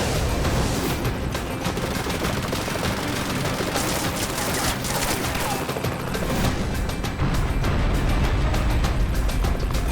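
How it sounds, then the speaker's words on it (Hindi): Dense, rapid gunfire erupts in sustained bursts, with overlapping shots and booms forming a loud, almost unbroken barrage for the full stretch, with no voices clearly audible. "हम फायर करने के लिए तैयार हैं। फायर।"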